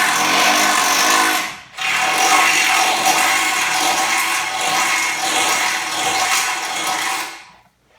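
A power drill with a 1/2-inch bit bores into the steel bumper mount on a Jeep JL, a loud steady whine running for several seconds after a brief pause, then stopping.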